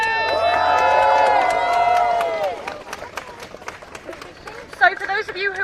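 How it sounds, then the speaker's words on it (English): A crowd outside Downing Street gives a brief cheer and clapping for speakers at a rally, with a person speaking over it, then scattered applause fading as talk continues. "can I just have one final cheer for our fantastic speakers, please?"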